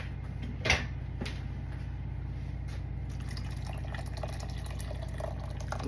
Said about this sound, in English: I'm putting in around a cup of cold water.